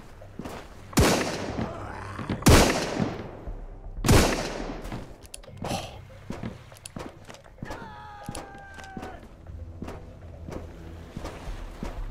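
Gunfire in the survival game Sunkenland: a few sharp, loud shots spaced a second or two apart early on, followed by scattered quieter impacts, footstep-like clatter and a brief tonal effect.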